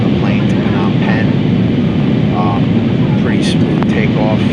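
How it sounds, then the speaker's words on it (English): Passenger airplane on a flight to Phnom Penh, its engines giving a loud, steady roar throughout from inside the cabin, with people talking faintly over it. "So we are finally on the plane to Phnom Penh."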